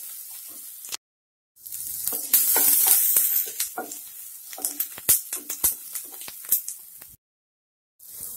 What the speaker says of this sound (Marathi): आता कढईमध्ये आपल्याला कांदा भाजून घ्यायचा आहे.